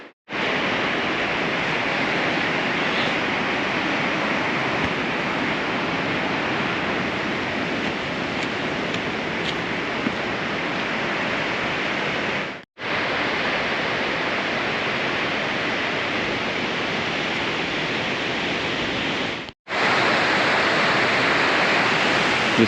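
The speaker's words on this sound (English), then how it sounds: "and then the river flowing, ever present down there" A river flowing below a jungle trail in Langtang, Nepal, giving a constant loud broadband rush of water with two brief cuts before it resumes unchanged.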